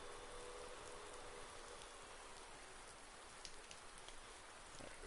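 Heavy rain falls across the alpine farmland of Farming Simulator 19, a steady full-bodied patter and hiss with scattered individual drops standing out, continuous and with no voices over it.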